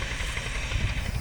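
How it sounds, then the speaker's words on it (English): A mountain train in the Alps heard from on board, a steady loud rumbling drone with hissing, continuous and close for the whole stretch. "That's the train that we took, so we actually do have to take it back down."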